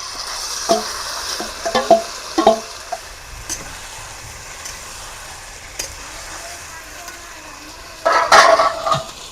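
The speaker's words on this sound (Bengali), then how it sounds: "এবারে আমি ম্যারিনেশন করা মুরগি মাংসটা দিয়ে দেবো।" Marinated chicken meets golden-brown fried onions in a hot pan, with intermittent sizzling bursts and scraping stirs between quieter stretches, then a louder sizzle near the end.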